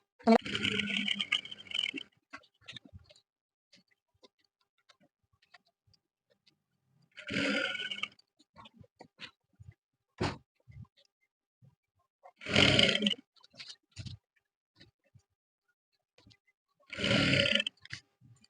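Sewing machine stitching elastic onto trouser waistband, running in four separate bursts of rapid stitching with quiet pauses between them.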